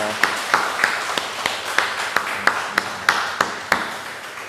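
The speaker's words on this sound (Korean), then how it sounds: "인사하고 우리 들어가실 때 환영의 박수 우리 하겠습니다" A church congregation claps in welcome, a string of sharp, evenly spaced claps with steady rhythm, fairly close and moderately loud.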